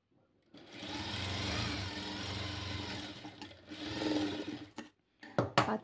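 Sewing machine running in steady bursts while stitching a velvet frock, a long continuous run followed by a shorter one and a few quick stops and starts, close and clear with no talking.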